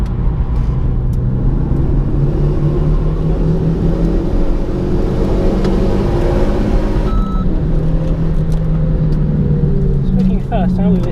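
A Renault Megane GT Line laps the Zandvoort circuit during a sport track session, its engine droning steadily with shifting pitch as it accelerates and brakes, while people chat over the continuous car noise.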